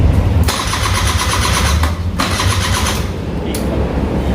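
A Suzuki Address V100 scooter engine cranks and catches, running loudly and close with a steady buzzing idle after a brief start and short dips in the sound.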